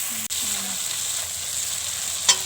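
Food fries in ghee in a pan, a steady close hiss of sizzling that holds evenly throughout, broken by a sharp tap near the start and a quick clink of a utensil toward the end.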